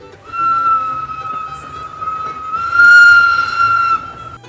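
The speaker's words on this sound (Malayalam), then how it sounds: "പതുക്കെ ട്രെയിൻ മൂവ് ചെയ്ത് തുടങ്ങിയിട്ടുണ്ട്." A solar-powered miniature train at a village station in Veli sounds a long, bright whistle as it begins to move, the sustained tone swelling louder partway through over a low mechanical rumble.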